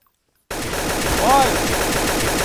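Loud, sustained automatic gunfire in Garry's Mod DarkRP bursts in after a brief silence and keeps rattling steadily without pause.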